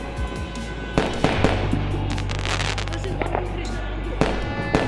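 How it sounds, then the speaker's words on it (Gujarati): Firecrackers burst during the Uttarayan kite festival in Rajkot, a scattered series of sharp pops and cracks, some near and some distant, over a steady noisy background with voices. "જો આમ તમને દેખાડું આ ફટાકડા ફૂટે"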